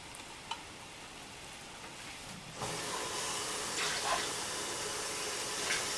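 Canned tomato sauce pours into a pot of chili beans, a steady hissing, splashy wash that starts partway through and continues without voices.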